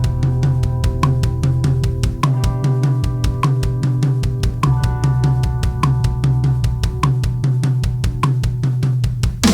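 Rapid, steady drum strokes patter evenly on a snare in a paradiddle-diddle rudiment, with deep kick thumps replacing the left-hand strokes, played alone and loud throughout.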